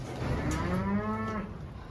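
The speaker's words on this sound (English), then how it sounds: "Apparently the cows think that it's time to get some feed." Highland cows mooing for feed on a farm, a long, loud, close low moo with a rising and falling tone filling the whole moment, no talk over it.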